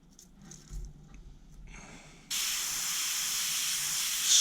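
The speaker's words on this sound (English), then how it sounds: "Spray over the wire." Quiet fumbling noises, then a steady, even hiss of fine airbrush spray using Createx Illustration paint starts abruptly and continues evenly to the end.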